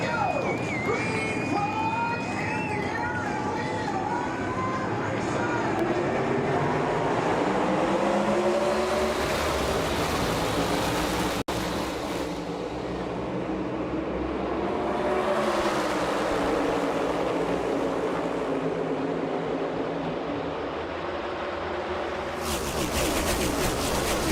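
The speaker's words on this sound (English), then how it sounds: "Briscoe gets the early jump on Larson as they come down the back straightaway" NASCAR stock cars racing at Charlotte Motor Speedway in the Coca-Cola 600, a roaring pack of engines sweeping past with rising and falling pitch, heard at moderate level under broadcast commentary.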